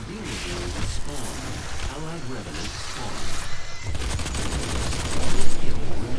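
Shotgun blasts and rapid gunfire ring out during a Doom beta multiplayer match, loud and dense bursts layered with game effects while someone talks over them.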